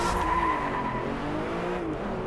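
Aston Martin Vanquish with a 5.9-litre V12 in the racing game DriveClub, its engine droning steadily and loud throughout, with a hint of tyre scrub over the continuous motor note.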